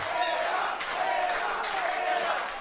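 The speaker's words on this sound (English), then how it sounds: "Crowd getting up." A wrestling crowd at an Evolve event rises and cheers, a dense roar of voices with a few shouts swelling and fading across the arena, continuous and fairly loud.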